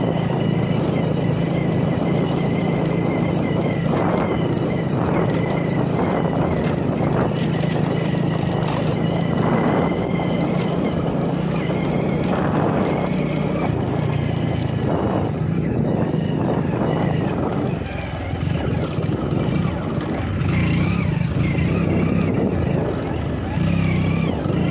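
A motorcycle running out of petrol keeps its engine going with a steady, close, loud rumble and uneven surges, as if jerking and sputtering along the road.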